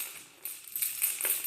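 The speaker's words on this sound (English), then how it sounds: "it's the sound of like chains, rattling" Creepy metallic rattling of chains as a video game sound effect, a faint jangling clatter of small links in brief irregular bursts, soft and somewhat distant with no talking.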